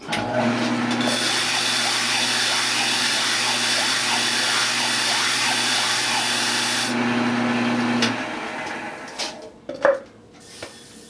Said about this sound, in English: And then sand it.